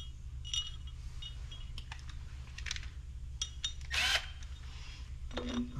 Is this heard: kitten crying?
no